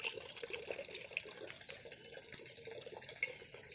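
Water from the supply runs steadily from a tap on a foggy morning, a soft continuous hiss with faint splashing, fairly quiet and alone.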